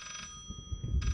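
A telephone rings in the horror game Layers of Fear, with two bursts of a bright electronic trill separated by a short gap and low thumping game sounds in between.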